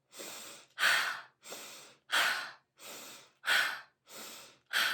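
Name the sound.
forceful breathing in nose, out mouth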